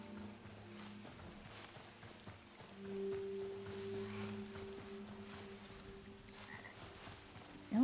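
Frogs croak in a Hytale game world, low and moderately close, their calls repeating over a steady ambient hum and soft sustained tones, with no talking.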